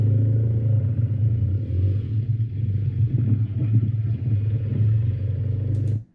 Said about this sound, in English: So listen to your motor